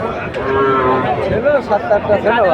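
Friesian cattle at a Bangladeshi cattle market give several loud, close moos that rise and fall over one another, with crowd chatter in the background.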